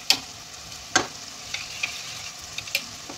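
Chicken in a pan with sour yogurt being stirred in, a spoon scraping in a few sharp, separate strokes over a faint, steady sizzle, close and fairly quiet.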